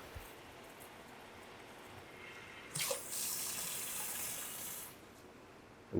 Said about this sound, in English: I will disconnect the water aspirator.